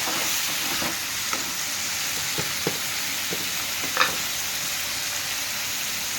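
Bitter gourd pieces, salted and spiced with chilli powder, fry steadily in oil with a continuous broad sizzle, broken by a few soft clicks and scrapes of stirring.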